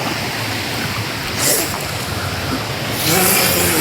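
Village stream water in the monsoon, flowing steadily with a broad rushing wash that swells louder in two stretches, close by, with no talk over it.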